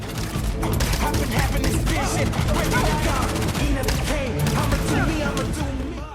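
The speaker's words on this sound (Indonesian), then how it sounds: "Beberapa tembakan langsung dikerahkan pada lawannya." Rapid bursts of gunfire crackle repeatedly, dense and loud, with voices heard faintly amid the shooting.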